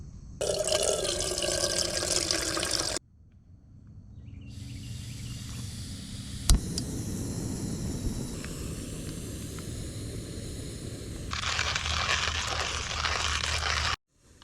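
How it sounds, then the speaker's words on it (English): Tap water runs steadily into a kettle at a lakeside state park campsite, a loud, continuous rushing pour that stops, returns more softly, then gushes strongly again near the end; no one speaks. "I'm gonna put some water on the kettle"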